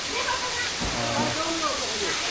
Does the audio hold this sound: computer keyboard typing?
no